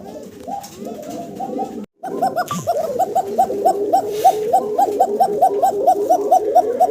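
Fancy pigeons, a pair of white and black birds, coo in a steady repeated rhythm close by, the calls growing fuller after a brief gap near the start, with no talking over them.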